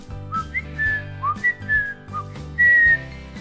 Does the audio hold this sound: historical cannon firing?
no